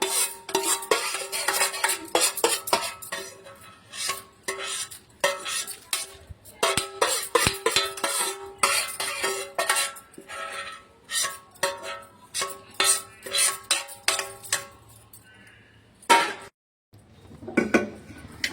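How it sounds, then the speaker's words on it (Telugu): Cooked ingredients scraped and spooned out of a pan onto a plate while making Telangana-style gongura pickle, with a rapid series of close metallic clinks and scrapes of utensil on cookware, pausing briefly near the end. "ఒక ప్లేట్లో ఇవన్నీ తీసి పెట్టుకుంటున్నాను"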